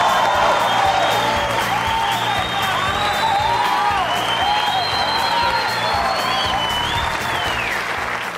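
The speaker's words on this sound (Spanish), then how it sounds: "aquí está César Corredor, aplauso fuerte para él." A studio audience at a comedy show gives César Corredor loud, sustained applause mixed with cheering and whoops, while bright whistle-like tones sweep over the crowd throughout.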